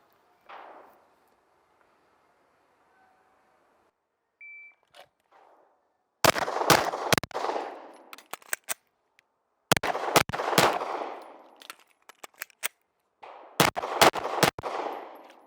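Glock 45 pistol shots during a reload drill, fired in three rapid strings of sharp, loud cracks separated by brief pauses for reloading, preceded by quieter handling noises and a short beep.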